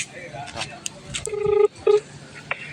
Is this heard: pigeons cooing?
no